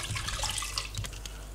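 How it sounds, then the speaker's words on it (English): Water pouring into a pot to make syrup for Greek walnut baklava, a steady soft splashing stream at close range with no voices. "add your water"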